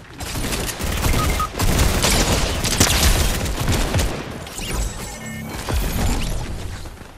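Dense Fortnite gunfire: a continuous barrage of rapid shots and crashes stacking over one another, loud and close for the entire stretch with no pauses and no speech.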